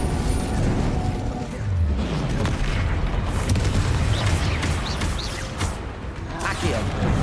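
Confringo spell explosions in Hogwarts Legacy during a troll fight: deep booms and bursts over a dense, rumbling game mix, with a voice talking over it.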